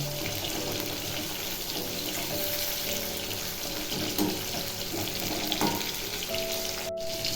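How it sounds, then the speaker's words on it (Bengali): Fish pieces fry in hot oil in a home kitchen, a steady close sizzle with faint bubbling and a few sharper pops and crackles, with no talking. "মাছগুলো ছেড়ে দিয়েছি মাছগুলো ভাজা হোক"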